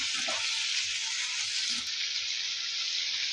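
Dried red chillies and tamarind sauté in a hot pan, a steady close sizzle of frying with a few faint stirring knocks, no voices.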